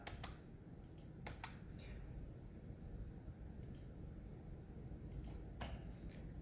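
Scattered clicks on a computer keyboard, pressing keys including delete, in sparse clusters of two or three taps with pauses between, faint over a low steady room hum.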